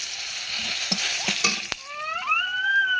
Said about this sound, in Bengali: এখানে ফোড়নে দিয়ে দিচ্ছি আমি গরম মশলা, গোটা গরম মশলা, দুটো তেজপাতা